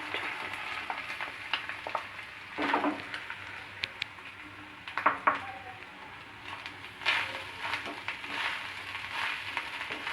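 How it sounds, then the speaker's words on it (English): Grated coconut stirred into hot ghee in a pan, giving a soft steady sizzle with scraping spatula clinks and a few louder stirring bursts, no talk. "When the ghee is heated, that time we have to put the coconut."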